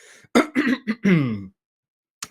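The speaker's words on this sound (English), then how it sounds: "I need to clear my throat" A single throat clearing, a few rough, voiced bursts in quick succession, close and fairly loud, then silence and a faint click at the end.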